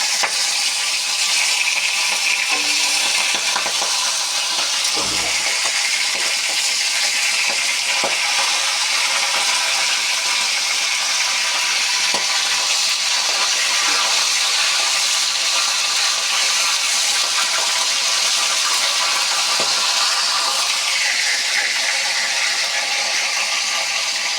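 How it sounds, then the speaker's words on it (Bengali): Hilsa fish heads hit hot oil already seasoned with bay leaves, dried red chillies and five-spice, giving a steady, loud, dense frying hiss that runs unbroken throughout with no voices. "এখন দিয়ে দিচ্ছি ইলিশ মাছের মাথা"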